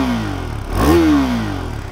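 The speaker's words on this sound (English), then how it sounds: "classic, buzzy little 373cc KTM engine we've come to know and love" A 2023 KTM RC390 sportbike's buzzy 373cc single-cylinder engine revs once from idle, climbing sharply to a peak and falling back, loud and close.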